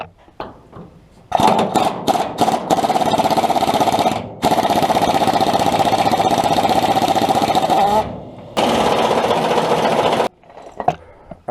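Impact wrench loosening the bottom bolts on a rear leaf-spring shackle of a 2010 GMC Sierra pickup, several short buzzing bursts followed by long, loud sustained rattling runs with brief pauses, close by and without talk.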